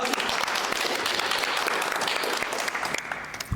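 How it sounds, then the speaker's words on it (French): A crowd applauds continuously, a dense and loud wash of many hands clapping close by for a few seconds with no voices standing out. "Faut applaudir, les gars."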